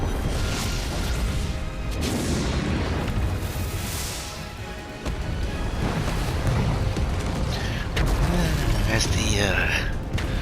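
Barrage of explosions striking starship shields in the Stellar Blade intro, a loud continuous roar of booms and crashes with rumbling low end and bright sweeping tones near the end, with a voice talking over it.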